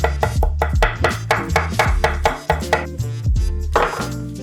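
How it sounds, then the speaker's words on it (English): A knife minces fresh mint and parsley on a board in close, brisk, evenly spaced chops, about fifteen sharp strokes with no talking. "I'm just gonna mince this up,"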